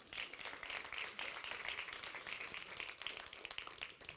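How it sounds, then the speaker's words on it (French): An audience at a motivational talk claps steadily, a dense, even patter of many hands that continues without a break, moderately distant and fairly quiet. "On l'applaudit quand même."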